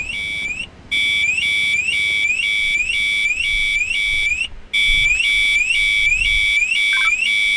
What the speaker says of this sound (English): there's an alarm that's been triggered.